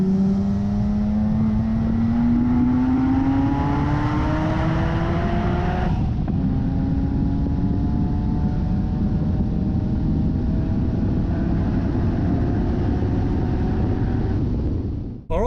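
A 550bhp supercharged BMW E46 M3 drift car driving fast, its engine screaming through rising revs with a gear change partway through, loud and close throughout before cutting off abruptly at the end.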